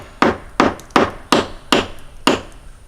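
Spent shotgun shell being driven out with a Lee Classic Loader: six quick, sharp tapping knocks at a steady rhythm, close and fairly loud, each with a short resonant tail.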